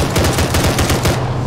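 Rapid continuous automatic gunfire from a PhysX-enhanced video game, loud and close, a dense run of shots with no pauses and no talk.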